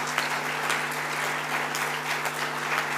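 Continuous clapping from a crowd at an architecture students' annual general body meeting, even and sustained with a steady electrical hum beneath it.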